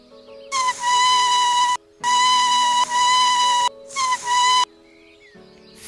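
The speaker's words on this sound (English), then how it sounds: "Here, Chinu, I have got a leaf. Now blow air into it" A leaf is blown into to make a whistle, giving three long, shrill, steady tones broken by short gaps. Each tone is loud and close, with no talking over it.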